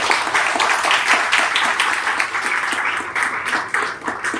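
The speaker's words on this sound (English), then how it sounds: "a big round of applause to welcome our guest, Geeta Rao." An audience applauds to welcome a guest speaker at an advertising talk event, steady dense clapping filling the room at close range for several seconds, with no voices over it.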